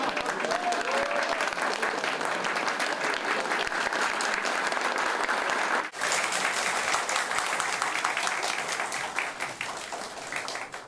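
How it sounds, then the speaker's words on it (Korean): Sustained crowd applause at a New Year opening ceremony in Suwon, Gyeonggi Province, greeting entering guests; steady, dense clapping runs throughout with a brief dip midway, tapering slightly at the close. "큰 박수로 맞이해 주시기 바랍니다"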